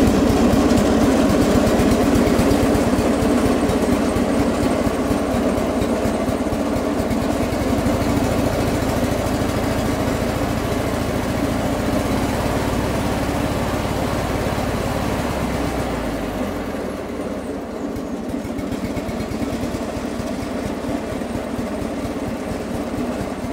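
Opposed twin flathead engine running at a steady idle throughout, a loud continuous low rumble that shifts and settles slightly partway through, with no talk.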